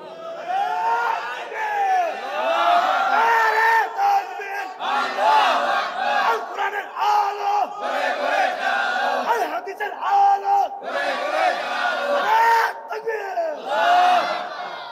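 A large crowd at an Islamic sermon gathering chants slogans in loud rhythmic unison, repeated call-like shouts rising and falling in waves across the whole stretch, with no pauses.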